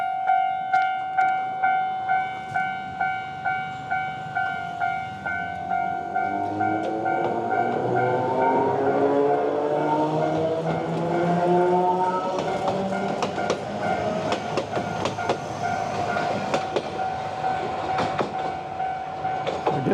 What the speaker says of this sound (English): I hear some crossing guards, crossing gates closing, so I think a train is coming